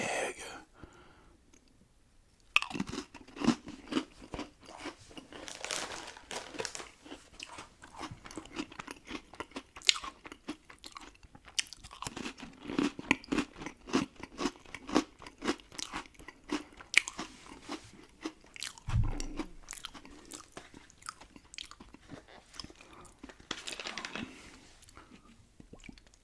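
Close-miked eating of Oreo cookies, with repeated crisp crunches and bites followed by wet chewing in an uneven rhythm, separated by brief quiet pauses.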